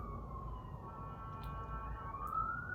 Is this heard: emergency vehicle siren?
yes